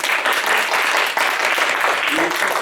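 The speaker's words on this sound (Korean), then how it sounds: "네, 박수." A church congregation claps together during a Korean Baptist worship service, a full and sustained round of applause filling the sanctuary from start to end.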